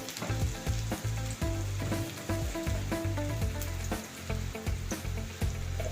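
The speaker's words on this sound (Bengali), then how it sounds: "পেঁয়াজটাকে একটু ভালো করে ভেজে নিতে হবে" Finely chopped onion fries with a little salt in a hot pan, a loud, continuous close-up sizzle with crackling bursts and scraping stirs, accompanied by steady background music.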